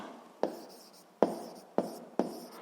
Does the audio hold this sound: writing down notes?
yes